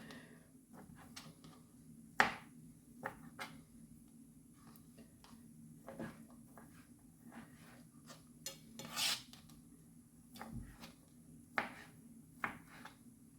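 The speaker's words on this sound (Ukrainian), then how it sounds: "Крабові палички нарізаємо соломкою." Soft rasping strokes of a knife slicing crab sticks into thin strips on a board, irregular cuts with a few sharper taps, quiet and close with no talking.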